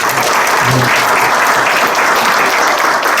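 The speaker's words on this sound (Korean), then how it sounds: "두 분 박수 맞아주시기 바랍니다" Loud, dense applause from an audience at a theological lecture welcoming two panelists, continuous and even throughout with no talk over it.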